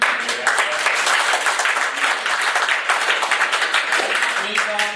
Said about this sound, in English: So I think that deserves an applause, don't you?